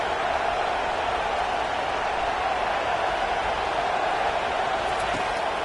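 Steady, loud roar of a college football stadium crowd making noise to keep the offense pinned deep in its own end, a continuous dense wash of cheering with no breaks across the whole stretch.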